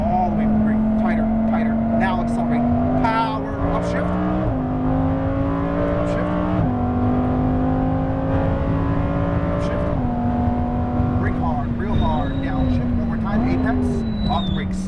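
A Lamborghini Huracan Performante accelerates hard on a racetrack, its engine note climbing steadily then dropping at each of several upshifts, loud and close, with a voice talking over it throughout.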